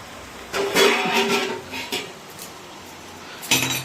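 A metal lid set back onto a cooking pot of cauliflower, potato and paneer curry, with a ringing clatter, a few lighter clinks, then another sharp knock near the end.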